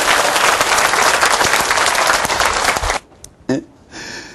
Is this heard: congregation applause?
yes